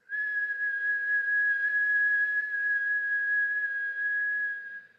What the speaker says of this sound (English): We're going to start to inhale through our whistle-shaped mouth